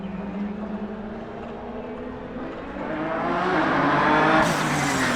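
A Ford GT Mark IV race car sits in pit lane, its 800 hp engine droning, then revving louder toward the end, with outdoor track ambience around it.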